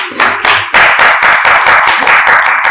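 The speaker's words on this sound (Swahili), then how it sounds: "Pigia Bwana makofi na vigelegele." A church congregation claps for the Lord in steady, loud, close rhythmic bursts, dense with overlapping hands and no talk.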